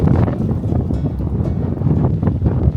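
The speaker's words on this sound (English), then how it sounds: "Holy crap, it got windy." Strong wind blasts across a microphone outdoors during a motorcycle camping trip in Ohio, a loud continuous buffeting roar with gusty swells and no voices.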